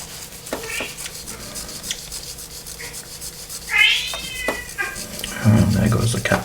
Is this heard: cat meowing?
yes